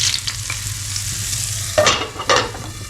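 Browned onions hit a pot of haleem for tempering, a hissing sizzle under a stir, then two sharp bursts of crackling as more is poured in and stirred, close and without talk.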